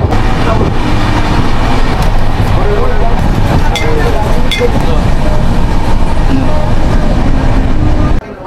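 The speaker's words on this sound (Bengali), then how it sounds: "নির্ধারিত সময়ের প্রায় 5 মিনিট দেরিতে এই ট্রেন তার যাত্রাপথের তৃতীয় স্টেশন মেচেদায় এসে দাঁড়ালো।" Tamralipta Express 12857, Howrah to Digha, pulling into Mecheda station: a steady loud rumble of rolling stock with scattered clanks, under continuous talk, ending abruptly.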